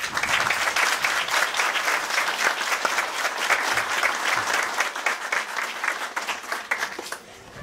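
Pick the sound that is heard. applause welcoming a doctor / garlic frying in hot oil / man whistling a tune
applause welcoming a doctor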